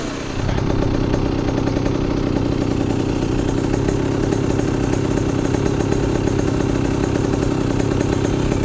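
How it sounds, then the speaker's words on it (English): A Yamaha YZ65 dirt bike on its stock exhaust idles close by, a steady, loud two-stroke burble with a rapid, even popping rhythm and no voices over it. "that is idling on the stock pipe."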